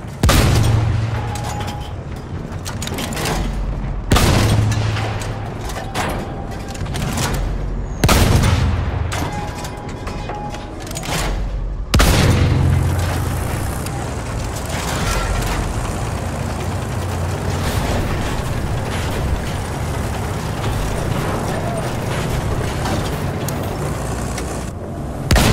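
Large-scale Battlefield 1 combat around a tank, with repeated heavy booms from cannon fire and explosions over a constant thick roar of gunfire and rumbling engines, loud and close throughout.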